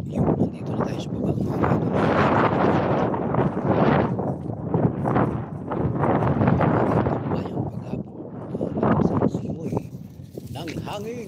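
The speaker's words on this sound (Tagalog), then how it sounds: "Nakakarinig ang simoy ng hangin" Gusty wind in Jeddah buffets the microphone in heavy, surging blasts, rising and falling throughout with a low rumble.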